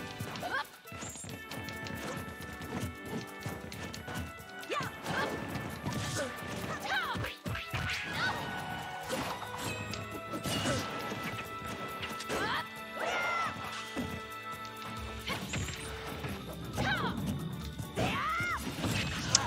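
Super Smash Bros combat with a down smash attack, sharp crashing and whacking hit impacts over game effects and music, and a player talks excitedly over the top.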